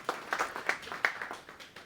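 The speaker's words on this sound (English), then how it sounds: "a round of applause for all the volunteers" An audience claps for volunteers: brief, fairly faint applause of scattered hand claps with an uneven rhythm, fading quickly.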